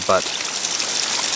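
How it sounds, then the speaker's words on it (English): A small stream flowing through Canyon Creek in winter, with a steady close trickling and rushing of water that runs throughout. A single short spoken word comes right at the start. "here's a little stream that I've come across here"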